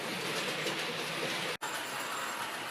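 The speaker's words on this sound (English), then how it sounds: "on the outer track, coming in from the branch line, we have a Thompson L1" Model Thompson L1 locomotive pulling Thompson teak coaches along a model railway track, heard as a faint, steady running rumble with a brief dropout near the end and no talk.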